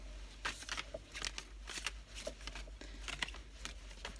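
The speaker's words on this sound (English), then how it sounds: "And shuffling this is very hard, I just have to say." Tarot oracle cards being shuffled by hand, a run of quick riffling and flicking bursts in an irregular rhythm, close and fairly quiet, with no talking.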